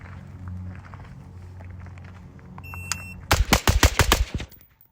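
Six rapid shots from a suppressed Radical Defense MK1 PDW, compact weapon, fired in a fast close string of sharp reports after a quiet lead-in with faint rustling and a brief beep.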